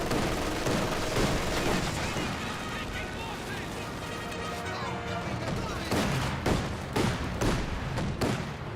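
Company of Heroes 2 battle gunfire, dense continuous rifle and machine-gun fire with booming impacts under steady commentator talk, loud throughout with sharper bursts toward the end.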